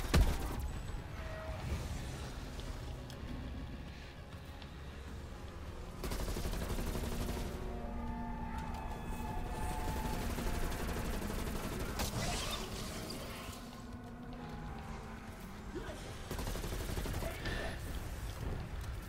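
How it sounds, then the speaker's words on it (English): Assault rifle gunfire in Call of Duty Cold War Outbreak mode: bursts of shots come and go across a dense, steady wash of game noise, with no talk in the clip. "it's the assault rifle"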